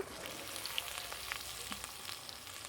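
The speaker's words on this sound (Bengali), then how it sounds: "এবার আমি কাঁকড়াগুলো ছেড়ে দিচ্ছি তো মানে খুব সাবধানে ছাড়তে হবে নাহলে কিন্তু তেল ছিটকাবে" Stuffed kakrol (teasel gourd) frying in hot oil: a soft, steady crackle with scattered small pops, faint and close, and no one speaking.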